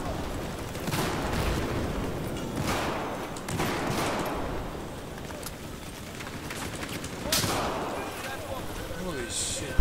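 Heavy explosions and gunfire in a Battlefield 4 Conquest Large battle on the Zavod 311 map, several loud booming blasts spaced a couple of seconds apart over constant battle noise.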